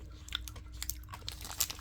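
Close, quiet crunching and chewing of an orange-flavoured caffeinated chocolate bar with crunchy bits, made up of irregular crisp bites with no talking.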